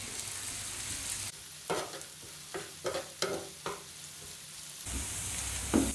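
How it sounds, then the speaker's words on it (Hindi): Onions frying in a pan until lightly browned, a steady sizzle with several stirring scrapes and clatters breaking through it. "प्याज को हम हल्का सा ब्राउन करेंगे।"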